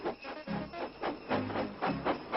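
Steam engine puffing in the style of Thomas the Tank Engine, a snowy-day scene: a steady run of rhythmic chuffs, about four soft bursts in quick succession, close and moderately loud with no voices.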